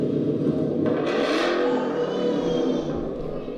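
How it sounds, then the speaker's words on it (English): A car engine revving, a recording of a Ford Mustang played back through a speaker, gives a steady loud rumble that swells briefly into a higher-pitched whir before settling back to a sustained drone. "It plays the sound of my car from my startup clip"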